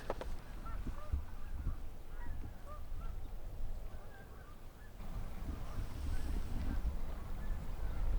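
Geese honk intermittently over steady wind and water noise, several calls spread across the clip at moderate distance.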